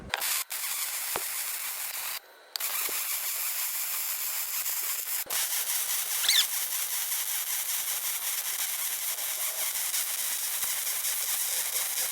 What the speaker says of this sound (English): So I'm gonna start here and start welding.